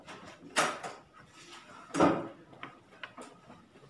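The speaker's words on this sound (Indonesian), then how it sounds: "Nampak mau tutup pintu" A door swung shut indoors, giving two solid thuds about a second and a half apart, followed by a few lighter knocks and rattles against a quiet room.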